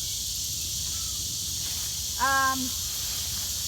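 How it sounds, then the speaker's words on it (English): Summer cicadas drone steadily and loudly through a food-forest garden overgrown with blackberries, a constant high buzz throughout, with one brief tonal call cutting in midway. "the cicadas are out, so I'm trying to talk over the cicadas"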